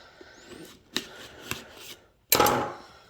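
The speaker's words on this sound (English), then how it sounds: "I'm gonna get my trusty knife and see the best way to open this" A knife cutting into plastic toy packaging for a Power Rangers Lightning Collection Megazord: a few short scraping cuts followed by a louder, longer slicing rasp near the end, close up with no talking.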